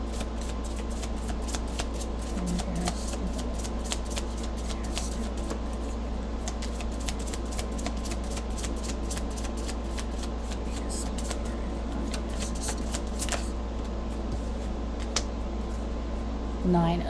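A deck of tarot cards being shuffled, a long run of soft rapid riffling flicks over a faint steady room hum.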